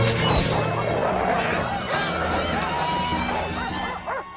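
Several dogs are let loose at once, filling the space with loud overlapping barks, yips and whimpers amid crashing commotion, with a voice talking underneath.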